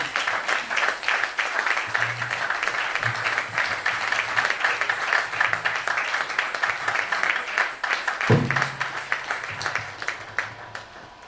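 A church congregation at a Sunday service claps and cheers, a steady sustained applause lasting throughout, with a brief low thump near the end and murmured voices underneath.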